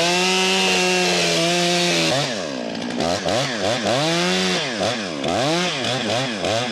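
A big chainsaw cuts through a giant oak butt. The engine drones loud and steady, then its pitch swings up and down repeatedly as the chain bogs and recovers in the timber.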